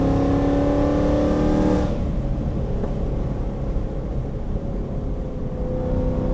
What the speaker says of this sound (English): this car is really loud with the valves open